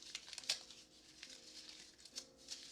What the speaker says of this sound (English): either crumple it up or go like this.